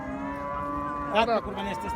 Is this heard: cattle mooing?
yes